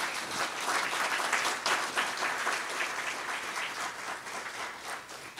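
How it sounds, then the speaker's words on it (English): Steady audience applause at a conference honoring translators, a dense sustained patter of many hands clapping at moderate level for the full stretch with no voices over it. "So a big round of applause for all of them."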